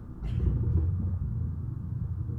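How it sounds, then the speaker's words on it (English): Low, steady rumbling of soil picked up by a microphone buried underground, a dense continuous grumble sitting close and fairly loud, with a brief brighter scrape near the start and no voices. "you can hear the grumbling of the soil"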